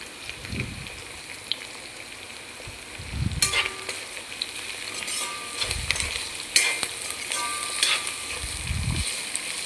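Garlic and chopped ginger sizzle in a hot pan for a fish pickle, a steady crackling fry with several soft thuds and scraping stirs scattered through, close and fairly loud with no talk.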